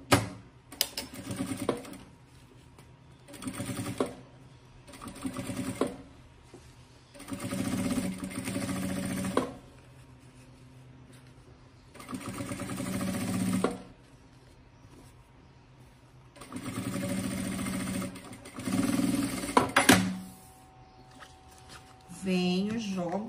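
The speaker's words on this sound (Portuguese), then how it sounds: "vou costurar bem próximo à cremalheira" A sewing machine stitches close to the teeth of a zipper on a large double pencil case, running in several bursts of rapid mechanical whirring separated by pauses, while a person talks between runs.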